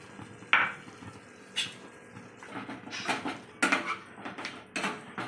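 Spice paste poured over chicken in a pan and stirred, giving scattered clinks, scrapes and soft splattering bursts that come close and irregular, with a faint sizzle underneath.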